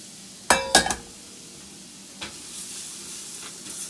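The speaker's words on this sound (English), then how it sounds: "Mix that up and we're going to toast our rice" Rice stirred with onions in a pan as it toasts for risotto: a few sharp spoon clinks against the pan, then a soft sizzle underneath, close and moderately quiet.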